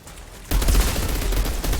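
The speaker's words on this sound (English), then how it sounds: "to deal with hordes of enemies, I can use this submachine gun" Submachine gun fire in the video game Outriders erupts after a brief quiet lead-in, then continues as a dense, loud, sustained burst of rapid shots.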